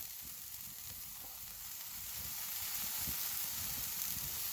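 Steak frying in a pan in a cabin kitchen, a steady close hiss of sizzling fat with faint crackle that grows slightly louder partway through, with no voices.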